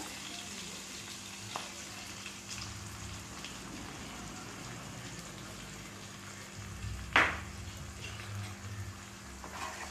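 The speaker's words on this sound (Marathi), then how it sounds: "सगळं व्यवस्थित छान परतून घ्यायचं।" Peanut and chana dal paste sautéing with fenugreek for a dhaba-style garlic methi dish gives a steady, close, rain-like sizzle, with one sharp clink near the end and no talk.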